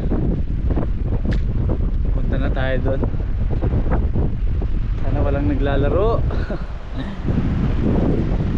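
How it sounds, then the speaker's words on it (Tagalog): Strong cold wind blows outdoors in New Zealand around midday, roaring steadily across the microphone for the whole stretch while someone talks over it. "Grabe lakas ng hangin, ang lamig."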